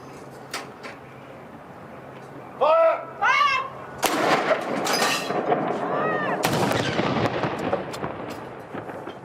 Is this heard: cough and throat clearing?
no